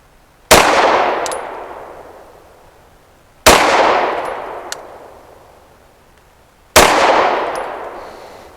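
Canik TTI pistol firing Winchester Defender 115 grain rounds: three sharp, loud shots spaced about three seconds apart, each followed by a long ringing decay outdoors, with no talking.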